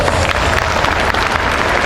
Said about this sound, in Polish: Dla niego także wielkie brawa